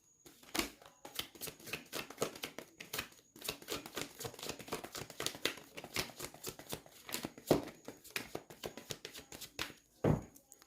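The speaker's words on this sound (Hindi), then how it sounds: "last shuffle angels" A deck of angel cards is shuffled by hand, giving repeated crisp riffling and flicking bursts with soft taps in an uneven rhythm, quiet and close.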